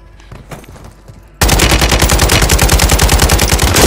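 Sustained automatic mid-caliber gunfire in a video game erupts suddenly after a quiet start, a loud, rapid, steady rhythm of close shots continuing without pause.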